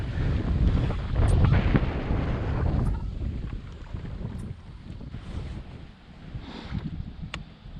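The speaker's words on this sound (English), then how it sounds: "The wind is really picking up though," Strong wind on a kayak trip roars and buffets across the microphone, loudest in the first few seconds and then easing into a steadier rush, with faint water sounds and a few small clicks.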